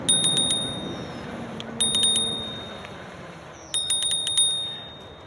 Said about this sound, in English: Let's hit the bell here.